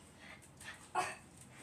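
A dog in a home kitchen gives a few short, soft whimpers and whines, with one slightly louder yelp-like whine near the middle, all brief and close with no talking.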